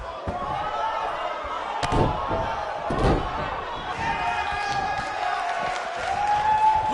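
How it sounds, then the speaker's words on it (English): Arena crowd noise from the wrestling video game WWE 2K19 rumbles and cheers continuously at moderate volume, with a few slam-like thuds, while commentators talk over it. "record-setting crowd here for bingo night at St. Mary's Church."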